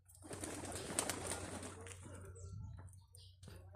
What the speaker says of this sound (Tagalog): ang sarap dito, mga huni ng ibon